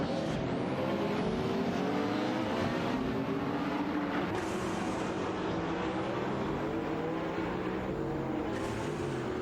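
AI-driven race car engines in a racing video game roar continuously, with several high revving whines rising and shifting as cars pass and change gear, loud and steady throughout without talking.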